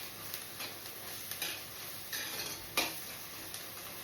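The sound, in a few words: onions frying with turmeric and salt, being stirred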